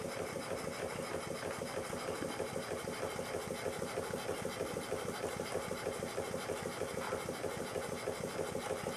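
A propane-heated model of an 1866 side-lever steam engine, fed by a hand pump, runs with a steady rapid mechanical clatter and chuffing, even and continuous throughout.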